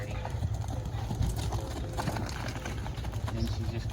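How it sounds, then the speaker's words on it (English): Horse hooves clip-clopping at a steady trot on a dirt pole-pen arena, a continuous rhythmic thudding at moderate distance with faint voices and birds in the background. "she's just cruising out of there at a nice trot"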